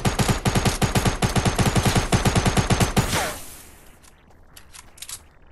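Rapid automatic gunfire in the video game Fortnite, a steady burst of loud, evenly spaced shots for about three seconds that cuts off into quiet game ambience with a few faint clicks.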